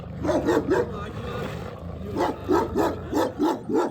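The dog Rüzgar barks in rhythmic runs, a burst of three close barks and then a longer series of six or so steady barks, over a low background rumble.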